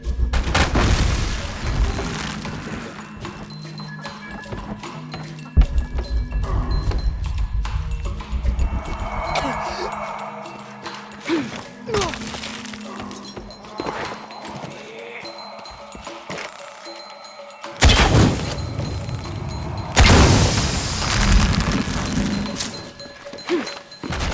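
Explosions in the Shadow of the Tomb Raider video game: two loud, broad booms burst out near the end over a busy bed of game music and effects.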